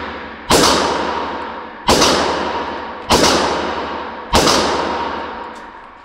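A rifle fires four loud shots at a steady interval of about 1.3 seconds, each one a sharp crack followed by a long, fading outdoor echo.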